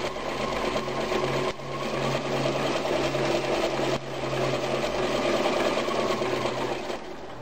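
Vintage Kenmore 148 sewing machine, model 14220, running steadily on a long table with a fast, even mechanical whir and hum, close and alone with no talking.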